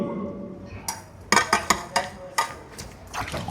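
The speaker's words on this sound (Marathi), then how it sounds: "चकाचक भांडी धुतोय तू" Pots and steel utensils clink and knock sharply in a series of close, irregular hits while dishes are washed, with a faint wash of water beneath.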